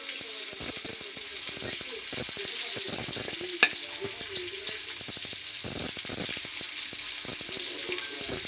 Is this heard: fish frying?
yes